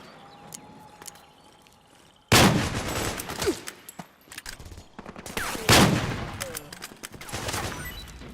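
Suppressing gunfire in Metal Gear Solid 4 erupts in two loud bursts of rapid shots after a quiet opening, each burst fading into scattered crackles.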